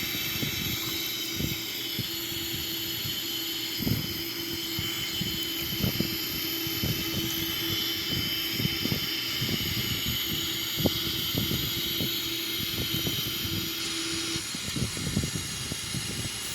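The right engine of a Boeing 777-300ER spools up in a flight simulator: a steady airy hiss and faint tonal whine, broken by rapid irregular clicks throughout.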